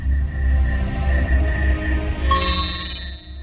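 Sci-fi scanner signal from an animated series detecting a Decepticon life signal: a steady electronic tone over a low hum, ending in a bright rising chirp near the end.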